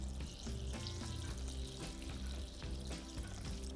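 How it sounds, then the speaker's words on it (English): Water pours into a bowl of glass noodles in a home kitchen, a steady splashing, bubbling stream that runs close and fairly loud throughout, with no talking. "Pour in water."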